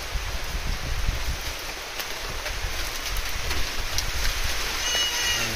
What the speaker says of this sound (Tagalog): Ayan, lakas ng ulan guys.